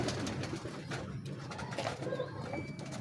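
A large, sturdy pigeon coos softly in a loft, low repeated cooing against a quiet background.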